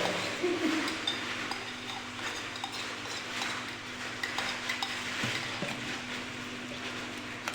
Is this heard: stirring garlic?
yes